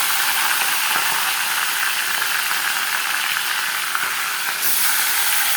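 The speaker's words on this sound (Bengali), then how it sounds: "এখন মাথাগুলোকে একটা একটা করে ভাজি" Fish heads frying in a pan for muri ghonto, a dense, continuous crackling sizzle at close range, steady and loud with no pauses.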